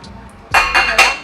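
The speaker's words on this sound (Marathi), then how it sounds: "व्यवस्थित मिक्स करून घेते।" Roasted almonds and chocolate are mixed in a bowl, giving a few quick clinking, scraping strokes of a utensil against the bowl, close and fairly loud with no talking.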